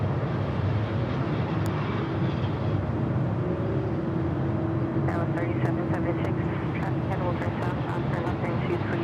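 A Boeing 767 airliner at LAX passes with a steady broad jet roar at moderate distance, while a person talks throughout and faint clicks and ticks surface near the end.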